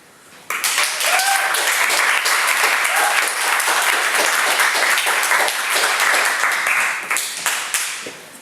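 Audience applause after a reading at a lounge night, dense clapping starting abruptly, holding strong for several seconds and tapering off at the end, with a few voices mixed in.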